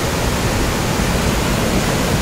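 A natural waterfall roars with water pouring down from above, a loud, close, unbroken hiss and rumble that fills the whole moment with no talk.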